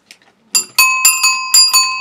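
Repeated bright rings from a black bicycle bell, several quick strikes in a row with sustained metallic overtones, loud and close, used for warning pedestrians while riding in a city.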